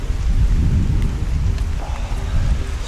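Heavy rain pours steadily and loudly during a bikepacking ride through Britain, with a dense low rumble that may include thunder or wind; no one speaks.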